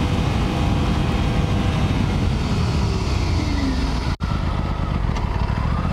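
Aprilia RS 457 motorcycle being ridden, its engine a steady, loud drone with a rising pitch sweep mid-clip and one abrupt momentary drop near the end, without talk.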